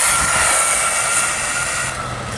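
A Rlaarlo 1/14 scale RC racing buggy accelerating hard into a wheelie outdoors, its electric motor giving a loud, steady high-pitched whine that holds strong for a couple of seconds, close by and with no voices.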